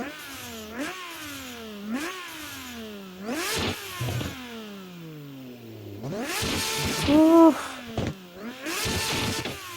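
A high-revving race car engine with straight hood stacks and no exhaust in a video game climbs repeatedly toward redline, with sharp rising sweeps and brief drops between shifts, loud and close, ending in rougher bursts of revving.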